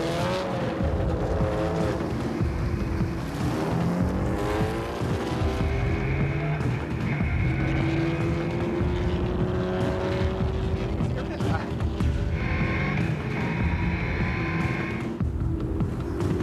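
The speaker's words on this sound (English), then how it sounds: "Here's the bike coming. It's coming." A motorcycle on a speed run, fitted with safety wheels and held under 100 mph, roars steadily throughout with rising and shifting engine tones, loud and continuous, while someone talks over it.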